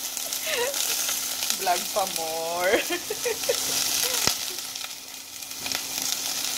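Garlic and onion fry in a home kitchen pan, with a steady close sizzle and occasional stirring. Someone speaks briefly over it.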